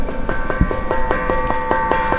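A large church bell at the Collégiale de Vitry-le-François rings with a rapid, regular series of strikes, each leaving a sustained metallic hum that blends into a continuous ringing tone.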